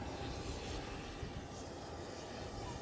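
A Boeing 757 airliner on the taxiway at Edinburgh Airport gives off a steady, even engine rumble and hiss, distant and fairly quiet, with no voices.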